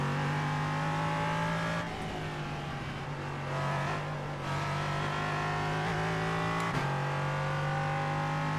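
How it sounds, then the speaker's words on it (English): A multi-class IMSA race car engine in the iRacing sim drones loudly and steadily close by. It drops briefly under braking and downshifts, then climbs back up to high revs. "This car sounds incredible"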